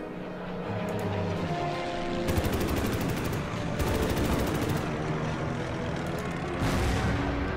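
Anti-aircraft gunfire in the strategy video game Order of Battle: Endsieg, two long rapid rattling bursts followed by a shorter one over a rumbling background.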